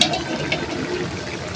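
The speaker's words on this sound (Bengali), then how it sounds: "এই তো দেখুন গুঁড়া মাছের চচ্চড়িটা বলক উঠে গেছে" Small fish curry (gura macher chochchori) bubbling at a boil in a pot, a steady close watery churn with no talk.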